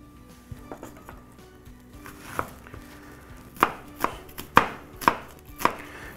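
A knife chops onions on a cutting board in sharp, evenly spaced strikes that start sparse and grow more regular, close up with no talking.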